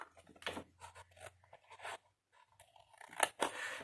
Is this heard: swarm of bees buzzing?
no